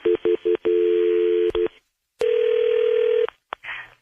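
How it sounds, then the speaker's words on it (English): A quick series of short telephone keypad tones, a long steady tone, then a single longer ringback tone, all loud and close. "Okay, it's ringing."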